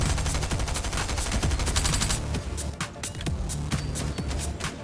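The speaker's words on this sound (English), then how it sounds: "Machine guns." Machine gun fire in the Fortnite video game crackles in rapid repeated bursts, loud and continuous, with sharp individual shots standing out toward the end.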